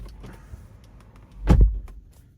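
A TOGG T10X car door swinging open and shutting with one firm, close thud at the midpoint, set against a quiet cabin with faint clicks before it.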